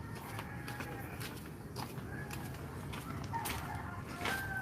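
A red rooster clucks and calls in short bursts at moderate distance, with soft scratching or footsteps and faint background noise throughout.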